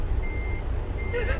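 Truck reversing beeps from a big rig in American Truck Simulator, a steady high tone pulsing over a constant low engine rumble, moderately loud and without talk.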